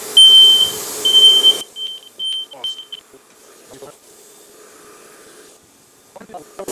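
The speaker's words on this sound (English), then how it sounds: "Setting off the fire alarm." A shrill smoke alarm, set off while cutting with a 40W diode laser, beeps in short repeated bursts at the start, then fades out as a voice speaks amid soft background noise.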